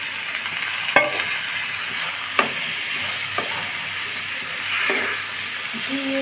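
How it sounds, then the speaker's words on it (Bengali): Soybean curry stirred in a pan, a steady soft sizzle with a few sharp spoon clicks against the metal scattered through it. "ভালোভাবে নেড়ে চেড়ে আমি মিশিয়ে নেব মিশিয়ে নিয়ে এটা একটু সময় নিয়ে আমি কষাবো"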